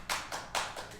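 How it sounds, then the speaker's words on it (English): Canned applause from a studio applause machine on a gossip talk show, arriving as four short, bright bursts of clapping in quick succession with no voices over it. "We got an applause machine here."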